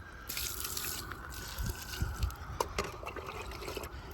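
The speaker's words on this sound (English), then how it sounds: "So I dip the water and then I just start wetting." Water is poured and trickles onto seedlings outdoors on a warm morning, with uneven splashing and dribbling close by and a few louder splashes partway through.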